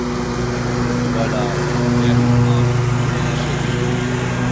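A new Scag Tiger Cat II riding lawn mower runs with a steady, loud engine drone and a constant low hum that swells slightly midway, with no break throughout.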